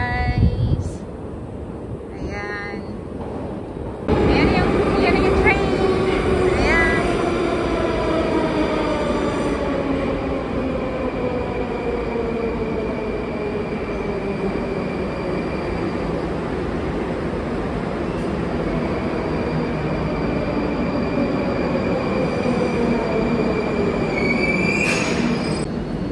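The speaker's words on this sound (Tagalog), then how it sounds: "Waiting for the train guys." A metro train rolls into Partisans station, rising loudly after a few seconds with long, drawn-out wheel squeals and rumbling that continue steadily as it slows, under a busy platform.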